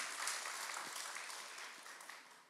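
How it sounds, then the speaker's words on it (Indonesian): A church congregation at a women's ministry service bursts into dense, steady applause, loud and continuous across the whole moment with no pauses. "Tepuk tangan untuk significant woman."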